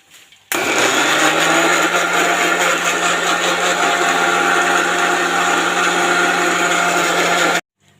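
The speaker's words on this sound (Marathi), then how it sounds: "मिक्सरच्या भांड्यामध्ये आता छान असं फिरवून घेणार आहे" A mixer grinder roars into a loud, steady whir blending a mango shake, running evenly for several seconds, then stops abruptly.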